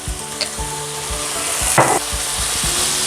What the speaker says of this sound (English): Then you want to just cook it down for about maybe 3 to 4 minutes, so the meat can absorb all the flavor from the curry.